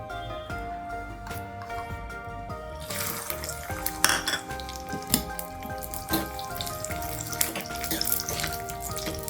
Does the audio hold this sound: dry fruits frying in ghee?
yes